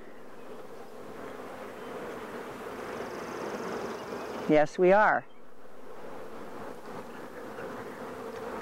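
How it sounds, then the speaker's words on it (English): Honeybees buzz around an open hive while a brood comb is lifted out of the brood chamber, a steady low hum with a brief closer, louder buzz as one bee passes, and a voice speaks briefly. "look at this bee right here"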